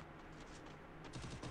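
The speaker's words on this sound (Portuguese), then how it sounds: "Um tiro." Gunfire in the Free Fire video game comes as a faint, quick burst of rapid shots near the end, after a quieter stretch, all at low volume.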